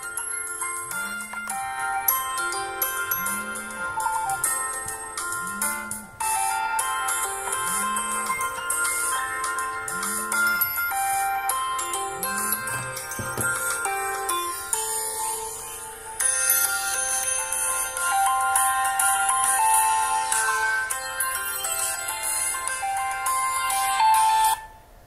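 A phone ringtone for an incoming WhatsApp call repeats a short melodic pattern in steady cycles, loud and close, continuing for about twenty-five seconds without any talking.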